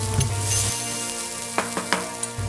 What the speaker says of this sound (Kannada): ಒಂದು ಬಾಣಲೆಯಲ್ಲಿ ಎಣ್ಣೆನ ಹಾಕಿ ಈ ರುಬ್ಕೊಂಡಿರುವ ಮಸಾಲೆಯನ್ನು ಬಾಡಿಸ್ಕೊಳ್ಳಿ